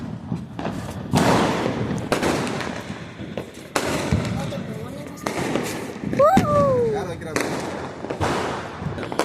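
Repeated booming bursts of rocket fireworks at a Diwali celebration over about nine seconds, with crackling tails and a rising whistle partway through, mixed with people talking nearby.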